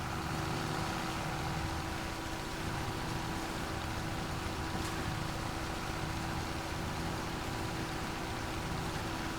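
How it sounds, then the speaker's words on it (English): A harvester's engine runs in the Farming Simulator video game as a constant, even mechanical drone with a low hum. It holds at the same level throughout, with no voices. "So let's turn on the harvester."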